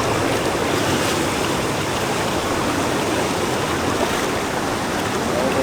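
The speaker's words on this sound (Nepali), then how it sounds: "एकदम बढेछ अहिले त खोला" A swollen river flowing near a natural swimming pool in Pame, Pokhara: a loud, unbroken rushing roar of fast water, close and steady throughout, with no talk heard.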